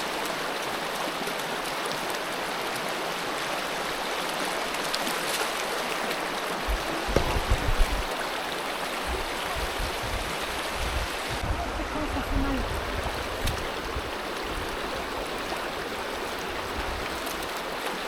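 Cold mountain stream water rushes and splashes steadily and close as someone wades through it in Morgins, Portes du Soleil, with a few louder sloshes from the steps.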